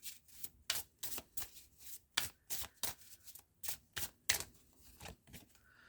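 Astrology cards are shuffled in quick, crisp bursts, a dozen or so rapid riffling flutters at a steady pace, close and fairly quiet with no talking.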